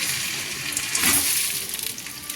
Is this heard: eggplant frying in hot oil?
yes